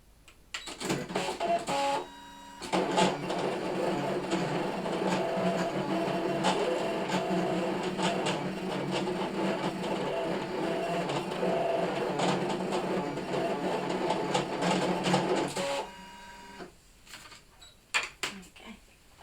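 A ScanNCut cutting machine runs steadily for about thirteen seconds, a mechanical whir with rapid ticking carriage movements, stopping abruptly, then a few clicks and handling sounds follow.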